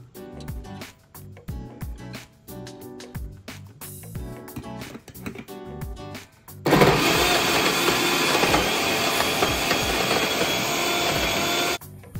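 A mixer grinder grinds tamarind into a tomato and pineapple puree for rasam, a loud, steady whirring roar lasting about five seconds after softer tapping kitchen sounds, then stopping.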